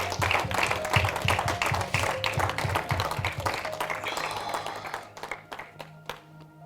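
Church congregation applauding in rhythmic clapping, loud and dense at first, then thinning out and fading toward the end with a few scattered claps.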